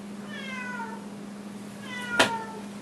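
A house cat meows twice indoors, two drawn-out, moderately close calls separated by a pause, over a steady low electrical hum, with a sharp knock-like click near the second meow.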